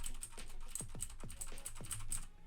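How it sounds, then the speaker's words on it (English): Keys clatter on a mechanical-switch keyboard, a close, crisp run of separate clicky keystrokes in an irregular typing rhythm, with no voices. "if you have a keyboard with mechanical switches like me, then you'll get something like this"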